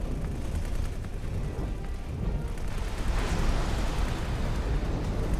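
A spaceship blows apart in the space game X4: Tides of Avarice, a dense, rumbling blast with crackling debris that swells louder midway and roars on continuously, filling the scene without speech.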